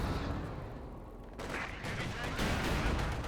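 Gunfire in a Company of Heroes 2 match, dense overlapping shots and explosions forming a continuous roar of battle, steady and fairly loud throughout.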